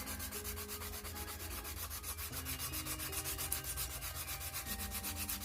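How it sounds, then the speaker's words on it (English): Steady, rhythmic rasping of fine sandpaper rubbed back and forth over a small wooden stick, close up and continuous, with no voices. "I'm just going to go through it and sand it with a smoother sandpaper"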